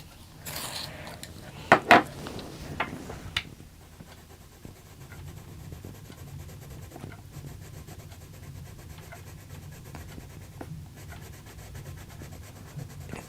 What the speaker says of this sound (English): I'm going to use this light phthalo blue, which I need to sharpen.